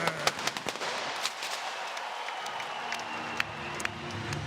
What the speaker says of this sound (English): Explosions above our head, and there were some explosions on the cage as well